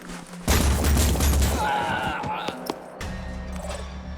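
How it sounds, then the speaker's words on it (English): A burst of gunfire aimed at an enemy's head in the tactical video game Phoenix Point: a loud, broadband blast at onset rolls into a crackling, rumbling tail with a few sharp impacts, then fades under low game ambience. "We'll shoot him in the head."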